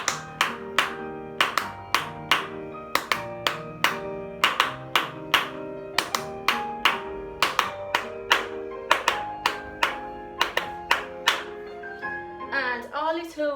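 In a ballet class, children clap in time with polka music on piano, producing a steady rhythmic series of sharp claps that continues alongside the melody.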